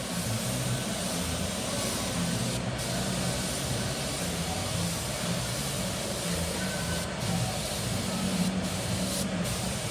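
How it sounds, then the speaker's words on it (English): Airbrush spray gun hissing out paint in a steady, continuous spray while misbehaving, with a constant airy rush held at an even level throughout, close by and without talk. "Spray gun's acting up a little bit."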